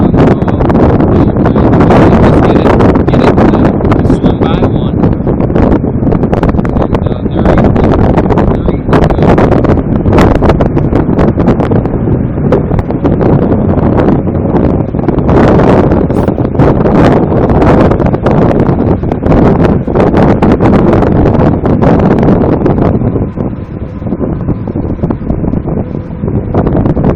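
Wind blows hard across the Susquehanna River during fall smallmouth bass fishing, a loud, steady roar and buffeting against the microphone that barely lets up throughout.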